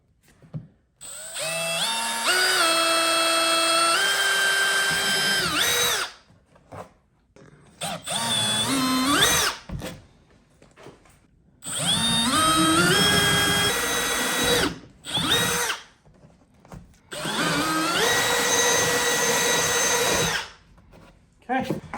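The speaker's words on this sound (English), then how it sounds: "So as you saw, I stepped up, gradually in size. We got our 1/2-inch hole drilled here now." A power drill boring a 1/2-inch hole on a Native Watercraft Titan X 12.5 kayak build, working in several whining bursts with short pauses between them.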